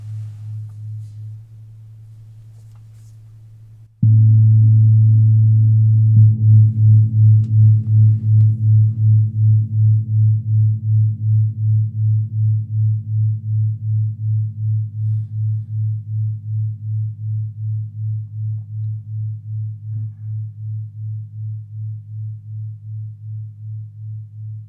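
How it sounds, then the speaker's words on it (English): Two steady electronic tones play together and produce a strong pulsing wah-wah beat pattern. One lower tone sounds first, a second tone then joins it and sets off the throbbing, which continues evenly and loud for over twenty seconds. "It's a very strong wah, wah, wah, wah, wah, wah, wah, wah sort of a thing."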